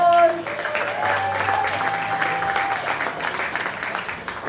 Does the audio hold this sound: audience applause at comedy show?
yes